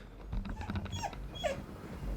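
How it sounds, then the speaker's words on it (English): A dog vocalizes close by in short whiny yips and soft grumbles, with no talking. "Were you just barking at me to give you pets?"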